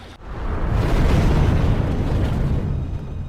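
Miko's ship blowing up in the Star Wars Bounty Hunter game after being hit by Jango's pistols: one loud, sustained explosion rumble that swells and fades over a few seconds, alone.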